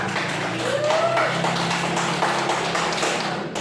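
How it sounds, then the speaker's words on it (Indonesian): Students clapping together in a classroom after a presentation, a dense, fairly close patter of hands that holds steady for a few seconds before breaking off. "Tepuk tangan untuk kita semua."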